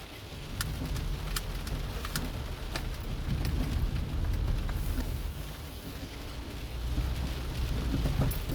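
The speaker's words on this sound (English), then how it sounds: "And the rain is coming down even more now." Heavy rain pours steadily onto a car during a delivery drive, with sharp cracks of thunder breaking through the constant loud downpour.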